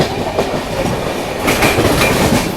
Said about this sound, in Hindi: यशवंतपुर दिल्ली सराय रोहिल्ला AC दुरंतो एक्सप्रेस गई